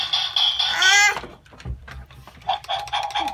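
A Minecraft toy sword sounds off with electronic effects: a rising warbling synth tone, then clicks and bursts of buzzy bleeps, close and moderately loud.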